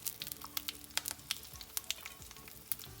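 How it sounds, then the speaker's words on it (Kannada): Curry leaves and peanuts sizzling while tempering in hot oil, with soft, quiet crackles and sharp pops scattered irregularly across a low frying hiss. "ಆಮೇಲೆ ಕರಿಬೇವು ಶೇಂಗಾ ಎಲ್ಲ ಹಾಕ್ಕೊಂಡು ಚೆಂದಾಗಿ ತಾಳಿಸ್ಕೋಬೇಕು"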